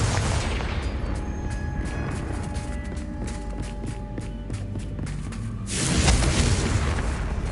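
A Confringo fire spell going off in Hogwarts Legacy on PS5, a dense rumbling blast layered with game footsteps and effects, swelling into a louder burst near the end.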